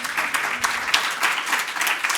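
An audience applauds steadily, many hands clapping in a dense, continuous patter at a moderate distance.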